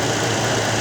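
GM car engine idling with variable valve timing codes P0014 and P0017 stored, a loud, steady low hum with constant vibration and no change in speed, alone with no talking.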